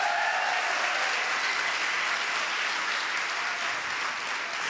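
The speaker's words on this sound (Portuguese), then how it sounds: "Pode aplaudir, pode aplaudir." A church congregation claps steadily during a sermon, a continuous, even wash of many hands at moderate volume lasting the whole stretch, with no speech over it.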